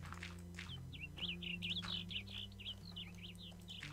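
Bright chirps and tweets from a bird in the Minecraft video game repeat quickly in a faint run of short calls over soft, steady background music.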